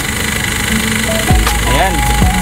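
A Mazda Bongo single-cab's WL 2.5 diesel engine runs steadily with its fan blade turning, a close, loud mechanical hum that continues under someone talking.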